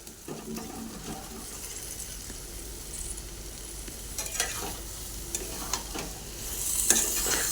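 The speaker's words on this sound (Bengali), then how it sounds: "এবার ইঁচড় আর আলুটাকে আমি দিয়ে দিচ্ছি।" Young jackfruit and potato pieces sizzle steadily in a pan of fried spices, with close scraping and stirring clatter and a few sharper pops and clinks over a continuous hiss.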